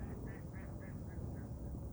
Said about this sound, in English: A duck over there squawking on the river.